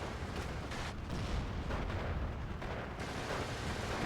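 An off-map artillery strike lands in the Combat Mission video game: a continuous, heavy rumble of distant barrage with overlapping low booms and no clear breaks.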